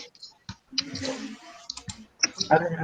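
Computer mouse and keyboard clicks sound in short, close bursts while text is copied and pasted, with a voice talking between and over them.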